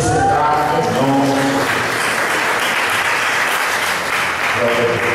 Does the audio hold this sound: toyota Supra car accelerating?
no